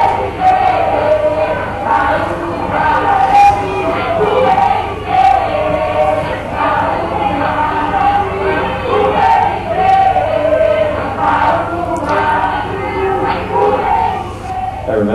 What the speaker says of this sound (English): I just see this crowd of people singing and dancing in the center of the tent